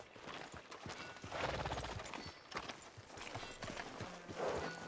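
Horse hooves clip-clop steadily along a street in Red Dead Redemption 2, a rhythmic, close clatter over ambient town noise with an occasional faint snort.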